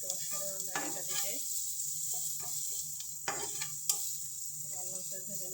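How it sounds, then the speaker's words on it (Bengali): Hilsa fish frying in oil with onion and chili, a soft sizzle with scattered pops and utensil clicks, while a voice talks intermittently over it. "গরম গরম মাছ ভাজি করছি, ইলিশ মাছ ভাজি, তার সঙ্গে পেঁয়াজ মরিচ ভাজা"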